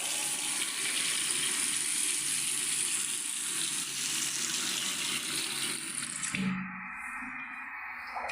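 Water runs steadily from the tap of a modern shower, a broad continuous hiss that cuts off abruptly near the end, leaving a quieter gurgling flow.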